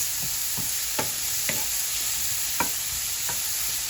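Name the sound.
mushrooms roasting in a pan with olive oil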